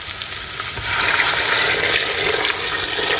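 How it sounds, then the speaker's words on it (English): Water is poured into a pot of collard greens and cabbage cooking with bacon and ham hocks, making a continuous rushing splash that swells, holds steady over the hot sizzle, then eases off. "Now you just want to pour your water in."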